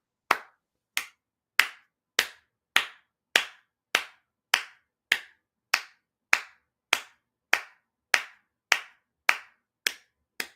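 Single pair of hands clapping in a slow, steady rhythm, about seventeen sharp claps spaced evenly, close and crisp with nothing else around them.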